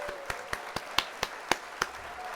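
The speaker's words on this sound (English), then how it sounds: "So let's hit the applause there." A canned applause effect plays on a livestream as a thin run of about eight evenly spaced claps, moderately loud and heard alone.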